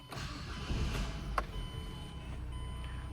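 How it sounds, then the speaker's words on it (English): A 2007 Mazda 3s Grand Touring engine starts from the driver's seat, a quiet low rumble settling into a steady idle, with a brief chime or click near the middle. "I will just start the vehicle."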